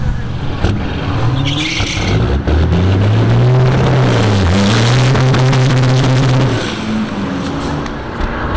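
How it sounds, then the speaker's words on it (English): A drag racing car at St Thomas Dragway spins its tires, the engine roaring loud and close with a steady, wavering drone that holds for several seconds before easing off. "Tire spin."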